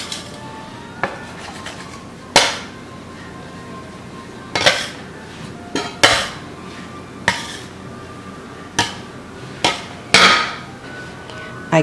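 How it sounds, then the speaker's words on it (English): A bread scraper works dough in a greased baking pan for homemade white bread, giving a string of sharp metallic clinks and knocks against the pan at irregular intervals, close and fairly loud, with no talking. "I'm using my bread scraper."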